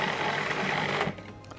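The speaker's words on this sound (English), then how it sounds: "Now blend that together so you've got a nice smooth sauce." A kitchen blender whirs steadily, puréeing tinned tomatoes and tomato purée into a smooth pizza sauce, running loud and continuous before cutting off near the end.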